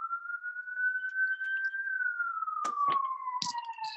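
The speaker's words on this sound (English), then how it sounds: "Ambulance." A single wailing siren tone drifts slowly up then down in pitch at a distance, with a few faint clicks and knocks nearby.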